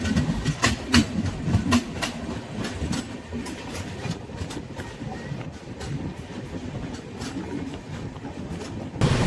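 An express train pulls out of Dhamangaon station, a steady rumble with repeated clickety-clack of wheels over rail joints, loud and close throughout.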